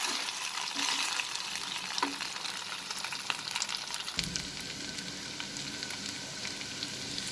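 Chicken and cauliflower frying in a pan give a steady, close sizzle throughout, with occasional gentle stirring scrapes and no talking.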